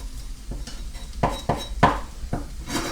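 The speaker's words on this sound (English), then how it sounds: "I'm going to throw all these onions in here." Chopped onions tossed into a frying pan for a shrimp frittata, giving several distinct clattering knocks and scrapes against the pan in quick succession at close range.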